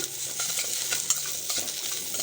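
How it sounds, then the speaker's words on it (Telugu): Chopped onions frying in oil left in a pan, a steady soft sizzle with light stirring scrapes throughout, close and alone with no talk. "తరుక్కున్న ఉల్లిగడ్డలు కూడా వేయించుకుందాము"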